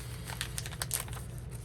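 Easy-tear plastic wrap on a card game starter pack is torn open in a few quick, faint crinkling rips close by, over a low steady background hum.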